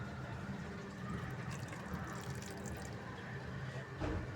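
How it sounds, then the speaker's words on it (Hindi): Milk poured into sweetened vermicelli (seviyan) in a pan, a soft steady liquid trickle against a continuous low background hum throughout. "अब मैं इसके अंदर थोड़ा सा डालूँगी दूध"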